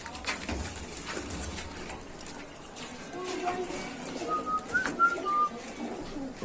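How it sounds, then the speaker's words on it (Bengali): Pet pigeons in their home loft coo softly in the background, with faint whistling calls near the end and voices talking over them. "এ হচ্ছে আমাদের কবুতরের সেট আপ।"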